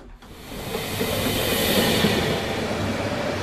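A train rumbles steadily at close range, a dense continuous roar of wheels and carriage noise building up at the start and holding loud throughout.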